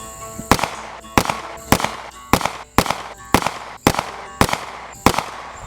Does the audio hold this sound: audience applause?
no